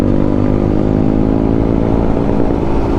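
A motorcycle cruises along an empty road with a loud, close, continuous engine drone, its steady throbbing note holding throughout with wind rush and no voices.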